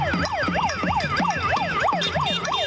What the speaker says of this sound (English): There's no reason for me to listen to sirens anymore.